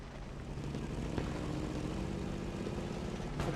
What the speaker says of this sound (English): As a British plane going down.